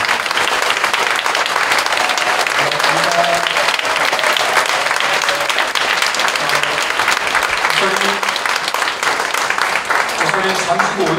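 Sustained applause from a congregation at a Korean church thanksgiving service honoring a retiring senior pastor, steady and dense throughout with some speech faintly mixed in.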